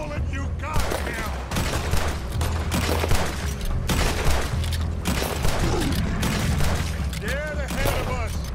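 Rapid gunfire pours into a giant alligator in Red Dead Redemption 2, dense overlapping shots and booms running throughout, loud and close, with voices shouting over the barrage.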